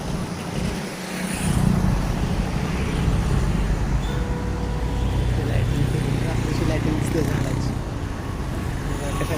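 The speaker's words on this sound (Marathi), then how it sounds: "गाड्या" Road vehicles passing by a scenic natural area on a trip, a steady broadband rumble of traffic that holds through the whole stretch at moderate loudness, with no clear separate pass-bys.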